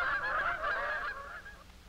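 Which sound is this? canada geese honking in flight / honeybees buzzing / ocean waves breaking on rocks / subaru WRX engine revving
canada geese honking in flight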